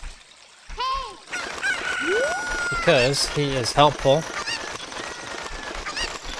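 A cucco hen in The Legend of Zelda: Ocarina of Time gives loud, squawking clucks and cackles in quick bursts. Someone talks briefly over the first squawk.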